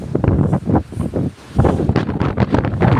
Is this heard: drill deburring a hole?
no